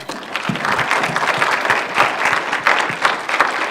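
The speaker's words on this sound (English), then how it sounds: "If we can give them a round of applause." An audience applauds panel speakers at an education advocacy event: steady, dense clapping from a crowd, fairly close and filling the whole moment without any talk.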